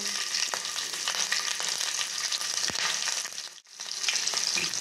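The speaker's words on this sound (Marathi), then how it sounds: "आता यात मी हे चिमूटभर जिरं टाकते। आपले जिरं फुललेलं आहे। यात मी आता थोडीशा मिरच्या टाकते।" Green chilies sizzle and fry in hot ghee with bloomed cumin for an upvas (fasting) dish, a steady close crackle, with a brief dip near the end before the frying resumes.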